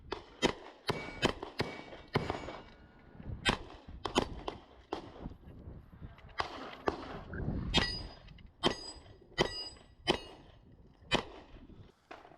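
A Glock pistol magazine drops and clangs during handling, part of a series of sharp metallic clacks and impacts spaced irregularly at close range, with faint handling noise between them.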